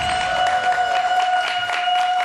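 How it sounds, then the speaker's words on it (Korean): An audience welcomes novelist Kim Jeong-hee with applause, a scattered patter of clapping over a steady musical tone from a stage setting. "큰 박수로 맞이해주세요."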